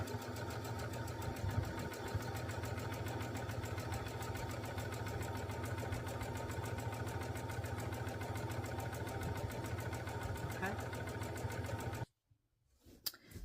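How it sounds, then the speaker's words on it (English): A sewing machine stitching jelly-roll fabric strips together for a quilt top, a steady fast mechanical whir running continuously at close range, then stopping abruptly near the end with a couple of faint clicks. "running them underneath your sewing machine at 1/4 of an inch seam allowance"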